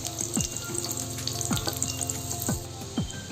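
Chicken cutlets fry in hot oil with a steady, close sizzle, and repeated low knocks and scrapes suggest they are being turned in the pan. No one speaks.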